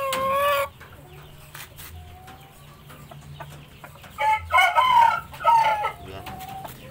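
Indio Gigante chickens cluck and crow nearby, with a loud burst at the start and several more calls toward the end over a quiet farmyard background.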